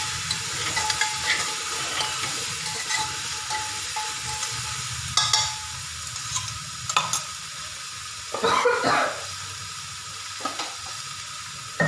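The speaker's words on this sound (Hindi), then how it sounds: "हरी मिर्च डालते ही आप इसमें डाल दीजिए सब्जी लौकी आलू" Bottle gourd and potato pieces with green chilli fry in a pan with a steady loud sizzle, broken by a few scraping stirs of a spoon, close up with nobody speaking.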